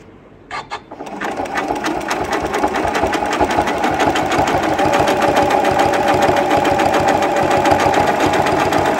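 A sewing machine stitches quilt binding with a triple zigzag stitch, starting after a couple of brief clicks and then running in a loud, steady, rapid mechanical chatter close by.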